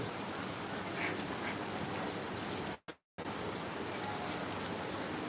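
Heavy rain pouring down steadily as a dense, even roar that fills the whole scene, cut off for a brief moment midway before resuming.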